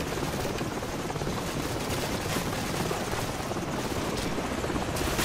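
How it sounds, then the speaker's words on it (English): Helicopter closing in during Call of Duty Modern Warfare gameplay, a dense, loud, continuous rotor roar mixed with what may be distant gunfire, steady throughout without speech. "So we've got company. Helicopter troops closing in fast."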